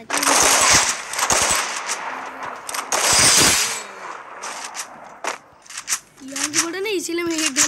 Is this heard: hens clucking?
no